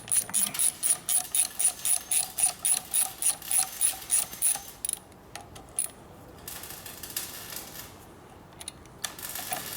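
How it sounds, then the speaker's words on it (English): A torque wrench ratchets on bolts of a 1999 80ci Evo rigid motorcycle, giving a close, steady run of about twenty crisp clicks for roughly five seconds, then stopping, with only a few faint scattered clicks and shop noise afterward and no talking. "Torque wrench. Put a little torque on it, not super heavy."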